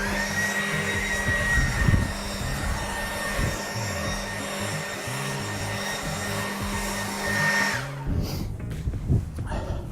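A battery-powered leaf blower runs with a steady, fairly loud whirring motor hum for about eight seconds, then winds down sharply and sputters to a lower level near the end.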